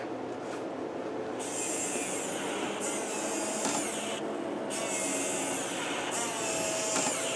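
A custom DeepCool QuadStellar gaming PC hums and whirs steadily as it starts up, its fan noise continuous with recurring higher-pitched whine that cuts in and out.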